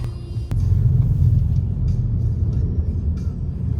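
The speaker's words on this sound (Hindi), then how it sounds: "यहाँ पे ना ट्रैफिक हो रखा है बहुत ज़्यादा" Steady low rumble of road traffic heard from inside a taxi in Chiang Mai, Thailand: a continuous engine drone and passing vehicles, fairly loud and close, with a brief knock near the start and no talking.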